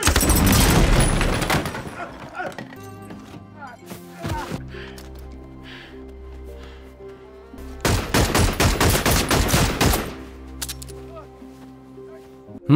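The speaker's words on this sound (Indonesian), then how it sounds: "Lalu ketika Curtis akan menembaknya." Loud bursts of gunfire, including a sniper, in a shootout scene from the film Wind River. Dense volleys crack at the start and again near the end, with low, sustained music droning between them.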